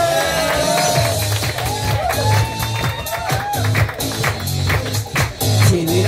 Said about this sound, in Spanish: Quiero un fuerte aplauso para